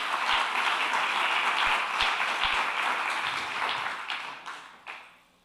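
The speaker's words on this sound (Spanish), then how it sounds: "Dele un aplauso fuerte al Señor." A church congregation applauds loudly and steadily for several seconds, then the clapping thins out and fades away.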